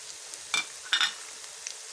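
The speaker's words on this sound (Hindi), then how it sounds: "लहसुन अदरक डालने के बाद अब हम इसमें अपनी बारीक कटी हुई मेथी डाल देंगे" Finely chopped fenugreek leaves hit a hot pan with garlic and ginger, giving two short bursts of sizzle over a faint background hiss, close and fairly quiet.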